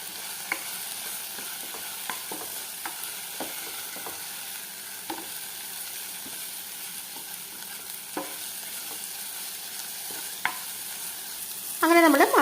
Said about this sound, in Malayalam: ഇനി നമുക്കിത് ചേർത്ത് കൊടുത്തിട്ട് ഒന്ന് വഴറ്റിയെടുത്തിട്ടുണ്ട് കേട്ടോ